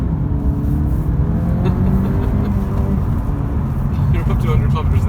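A 2018 Honda Civic VTEC Turbo accelerating on the road and shifting into second gear, with a loud, close engine drone whose pitch rises and steps down at the shift, under someone talking.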